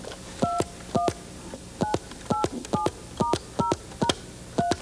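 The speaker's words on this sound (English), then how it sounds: "You can dial a number on that one." Touch-tone phone keys pressed one after another, about eleven short dual-tone beeps at an even, deliberate pace, each with a click, clear and close over faint background noise.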